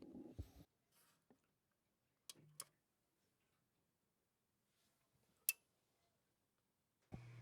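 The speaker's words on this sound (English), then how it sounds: "I'll put my microphone on the link so you can actually hear the relays clicking." Relays inside a Lynx Hilo AD/DA converter give a few tiny, sharp clicks spread apart across quiet near-silence, very faint and close, with some soft handling noise at the start and end.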